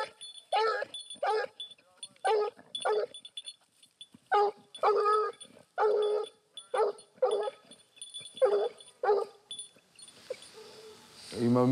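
A hunting dog on a wild boar hunt in the French countryside gives a long series of rhythmic, moderately loud barks and yelps in quick bursts with short pauses between them.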